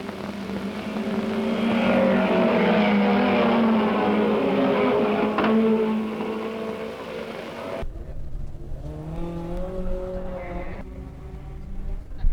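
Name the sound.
vintage racing cars on last lap at Mallory Park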